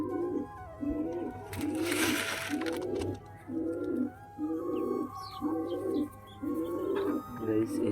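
Pigeons coo on a rooftop while they feed, a steady run of soft, rhythmic coos repeating about once a second, close and clear over a low background hum.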